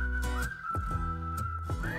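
A whistled melody carries a song at an Albanian song festival, with the bright whistled line gliding over a thumping beat and bass.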